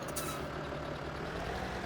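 Steady low engine rumble of a tractor moving in Farming Simulator 2017, a continuous drone with faint hiss, close and alone without talk.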